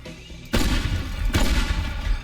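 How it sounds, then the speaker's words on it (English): A massive demolition explosion in Teardown erupts as a sudden loud blast, then a second burst follows, with rumbling debris continuing after both. "the massive explosion that they set off"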